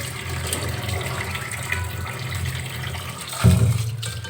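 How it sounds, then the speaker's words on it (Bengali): Tap water runs steadily into a kitchen sink while lentils are rinsed, a close, continuous splashing rush with a louder gush of water near the end. "এখন আমি ধুয়ে নিচ্ছি ভালো করে ধুয়ে নেবো"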